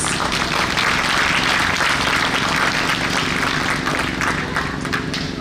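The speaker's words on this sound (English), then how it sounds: "Let's also have a round of applause for all the Hmong Service Center leaders for organizing today's activities." Steady audience applause at a Hmong National Labor Day Eve community gathering, dense continuous clapping from a large crowd, loud and sustained throughout with no talk over it.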